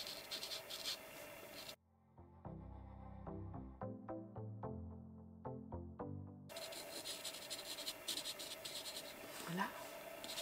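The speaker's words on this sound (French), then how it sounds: "je vais colorier un petit peu" School felt-tip markers coloring a fir-tree landscape on paper, short rapid scratchy strokes in quick bursts, close and fairly quiet, with other sound cut in around them.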